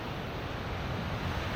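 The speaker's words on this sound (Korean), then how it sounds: "넓은 백사장에 끊임없이 밀려드는 파도가 참 아름다운 곳이었어요." Ocean surf at Bondi Beach in Sydney, waves rolling steadily onto a wide sandy shore, a constant broadband wash with wind noise and no distinct breaks, heard from some distance.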